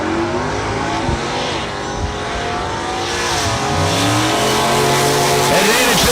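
A Dodge Demon and a 1975 Plymouth Duster launch at a drag race at the New Year Nationals, their loud engines roaring with steadily climbing pitch as they accelerate away while an announcer talks over the noise.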